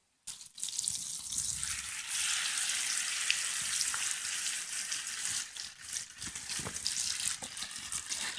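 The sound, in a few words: butter frying in a pan while camping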